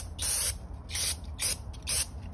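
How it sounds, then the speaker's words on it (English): Brake cleaner sprayed onto the rear brake pins of a C8 Corvette Z51 in four short, loud hissing bursts, each about a third of a second long, with brief pauses between them. "spray them with a little brake cleaner,"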